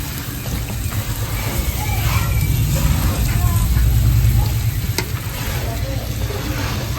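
Bata fish dropped into hot oil in a pan sizzle and fry loudly and continuously, a dense crackling hiss that swells midway with stirring.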